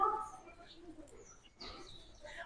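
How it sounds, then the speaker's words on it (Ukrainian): Faint birds chirp and twitter in the background at a resort in Antalya, Turkey, brief high calls scattered over a quiet, open-air ambience. "Ой, тут пташки так співають."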